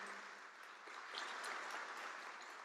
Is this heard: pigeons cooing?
no